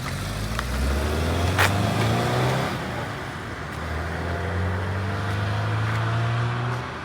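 An old Subaru Brumby (Brat) pickup's engine runs close by, a steady low rumble that swells slightly before easing back to an even idle-like drone, with no talk over it.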